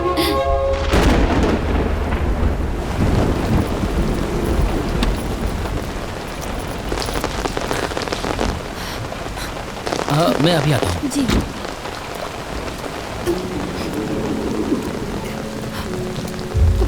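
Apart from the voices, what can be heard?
thunderstorm with rain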